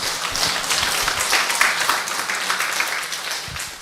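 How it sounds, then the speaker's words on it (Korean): Church congregation clapping hands together during a Sunday service, a continuous loud burst of many hands applauding steadily for the whole stretch. "우리 성령님 환영합니다 하면서 우리 박수 한번 치겠습니다"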